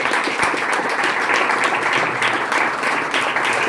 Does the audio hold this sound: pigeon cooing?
no